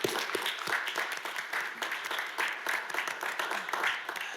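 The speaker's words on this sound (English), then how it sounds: "Let's give a round of applause." Audience applauding at a city board of directors meeting in Little Rock, a steady burst of many hands clapping that fills the room at moderate loudness throughout.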